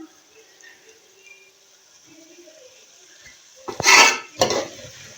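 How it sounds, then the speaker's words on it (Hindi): Spices with green chili roasting in a pan, heard as quiet sizzling followed by two sharp metallic scrapes of a spoon stirring against the pan near the end. "अच्छी तरह से सारे मसालों की हम बुनाई कर लेंगे।"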